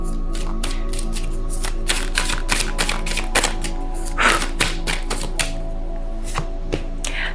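A tarot deck is shuffled and cards are drawn, making a steady run of sharp card snaps and slaps, close and loud over a constant low hum.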